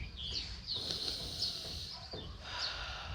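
Outdoor birds singing in the open air, thin high chirps and warbling phrases recurring over a steady breezy background hiss across the whole stretch, moderately near.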